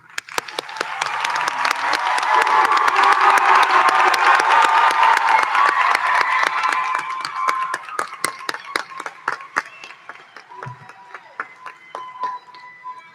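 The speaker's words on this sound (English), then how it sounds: "Let's give them a round of applause." A crowd at a high school academy awards ceremony applauds and cheers for graduating seniors, loud sustained clapping with shouts that gradually thins into scattered individual claps.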